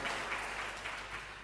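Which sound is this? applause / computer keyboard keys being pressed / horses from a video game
applause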